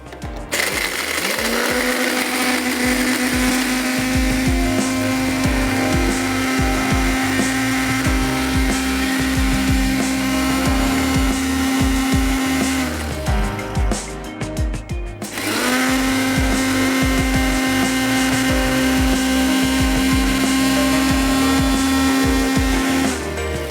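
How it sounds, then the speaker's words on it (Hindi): An electric grinder pulverizes cardamom pods in two long, loud runs of steady motor whine, each about ten seconds, separated by a short pause. No one speaks. "तो इलायचियों को पीस लेते हैं।"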